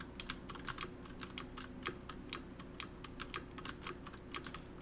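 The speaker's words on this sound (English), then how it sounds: "the keyboard's pretty loud" Steady, loud keystrokes on a computer keyboard clatter in an irregular, close-up rhythm of rapid taps, heard alone with no talking.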